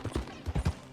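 Horse hooves clip-clopping in Red Dead Redemption 2, a quick close series of hollow hoof thuds in an uneven trotting rhythm, with no speech.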